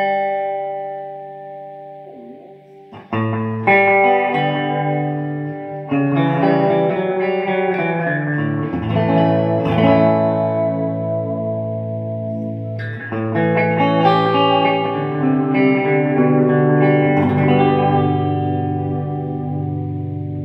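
An electric guitar runs through a Nocturne BS 301 Mystery Brain effects pedal, sustained chords and melodic notes smeared with wobbly tape-style echo and chorus, loud and continuous with short gaps between phrases.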